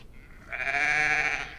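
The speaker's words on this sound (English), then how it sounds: "and the sheep" A single sheep bleats clearly in a drawn-out, wavering cry after a brief quiet start, heard alone as a sound effect in a radio drama.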